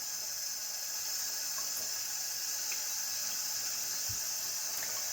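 A sink tap runs steadily while soap is rinsed off hands, a constant close hiss of flowing water splashing into the basin toward the drain, with one brief low thump near the end.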